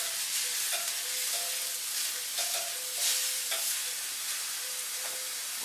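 Cube steak sizzling on a flat-top grill, a dense continuous hiss of frying close by with faint clicks and scrapes, no talking.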